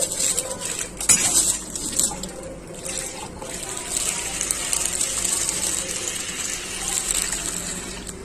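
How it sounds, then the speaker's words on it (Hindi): Water poured into chicken keema in a pan, a continuous splashing gush with clinks of metal utensils against cookware, close and steady throughout, no talking. "पानी ऐड करेंगे"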